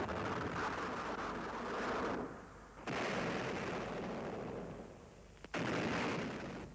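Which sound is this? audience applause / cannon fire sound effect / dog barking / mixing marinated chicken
cannon fire sound effect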